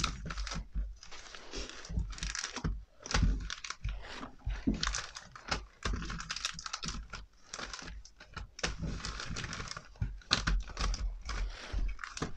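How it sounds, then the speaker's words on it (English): Quiet, rapid papery rustling and clicking as Pokémon Shining Star V trading card booster packs are shuffled and handled close by, in uneven bursts. "So I'm gonna shuffle up the packs"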